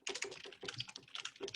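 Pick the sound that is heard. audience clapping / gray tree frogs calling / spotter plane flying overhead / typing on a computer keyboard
typing on a computer keyboard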